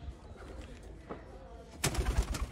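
Rare Chapda breeder pigeons coo softly at home, a low faint murmur that grows louder and closer near the end, with no talk.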